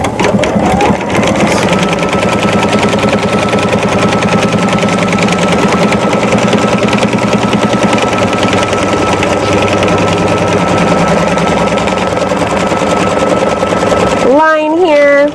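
Sewing machine running steadily, stitching a freestanding embroidery applique; a continuous loud, even mechanical whir with rapid needle rhythm for most of the span, stopping near the end as a voice briefly speaks.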